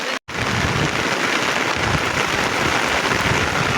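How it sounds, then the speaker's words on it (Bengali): Heavy rain pours steadily during a flash flood near a hillside border area, a dense, loud, continuous roar of falling water close by with no voices. "দেখেন বন্ধুরা কি পরিমাণ বৃষ্টি নামতেছে"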